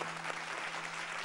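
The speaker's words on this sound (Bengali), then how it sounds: "ওর জন্য সবার তরফ থেকে হাততালি।" Applause from a television stage audience for a performer, a steady, fairly faint wash of clapping with no talk over it.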